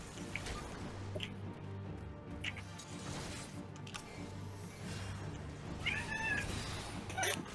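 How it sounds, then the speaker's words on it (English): A faint cat meow sounds briefly near the end over a low, steady background hum during Final Fantasy XIV: A Realm Reborn gameplay; no voices. "Was that a cat noise? That's my cat."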